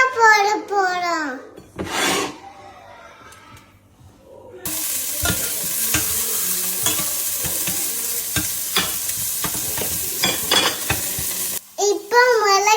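Onions hit hot oil in a home kitchen pan and sizzle loudly and steadily, with scraping stirs, after someone speaks briefly; the frying continues for several seconds before a short pause.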